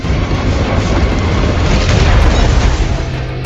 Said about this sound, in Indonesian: Dalam aksinya itu, Sarah menabrak mobil anak buah Decom yang akhirnya terpental dan meledak di sambar petir.